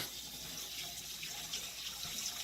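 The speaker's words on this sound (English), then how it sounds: "I'm going to run cold water on them" Cold water runs steadily from a tap over drained soybeans in a bowl, a continuous hissing splash at moderate volume with no voices.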